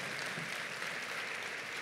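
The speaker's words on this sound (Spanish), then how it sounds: "No, pero aplaudan en serio." Church congregation clapping during a Sunday service, a soft, even wash of many hands that stays quiet and distant for the whole moment.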